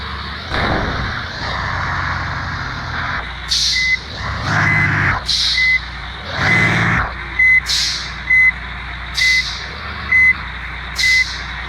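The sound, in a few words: truck reversing beeps while parking, from the video game Bus Simulator Indonesia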